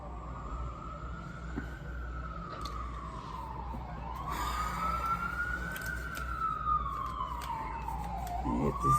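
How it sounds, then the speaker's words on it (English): A wailing siren rises and falls in long sweeps as an emergency vehicle passes, growing louder toward the end over low traffic rumble. "The sirens go through."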